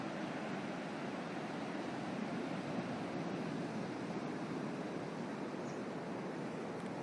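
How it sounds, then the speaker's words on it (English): Surf washing onto Era Beach, a small beach in Sydney's Royal National Park, heard as a steady, dense roar of breaking waves with no pauses, fairly close and even throughout. "Era Beach. Absolutely stunning little beach here."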